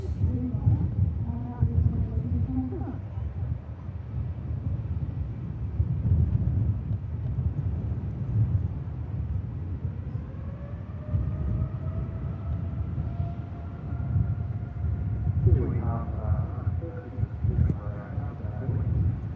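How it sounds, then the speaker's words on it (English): A TUI Dreamliner airliner departs Manchester Airport bound for Cancun, its distant jet roar a low steady rumble with a rising whine partway through, heard outdoors under wind noise. "TUI Dreamliner heading off to Cancun over in Mexico"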